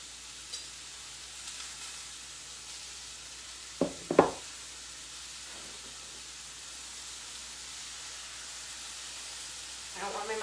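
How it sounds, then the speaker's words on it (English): Mushrooms and shrimp cook in an oiled pan, a soft steady sizzle and hiss throughout with a couple of brief stirring clatters near the middle. "And with my shrimp, I'm going to give my mushrooms a stir."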